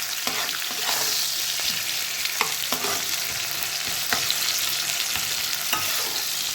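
Onion, garlic and dry fish frying in a pan make a steady, close sizzle with scattered sharp crackles and stirring scrapes, with no one talking.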